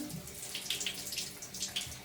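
Water running steadily from a bathtub tap during a pet's bath, a soft continuous splash and trickle with light bubbling, fairly quiet and close.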